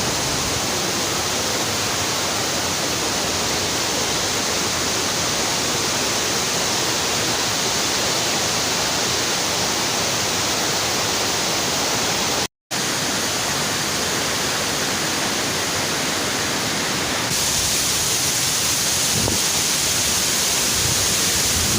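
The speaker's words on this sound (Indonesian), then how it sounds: "Ini dia Curug Kembar atau Curug Sejoli, cakep banget" The Curug Kembar twin waterfall roars steadily, a dense and unbroken rush of falling water heard close up for the whole stretch, with a brief cut partway through.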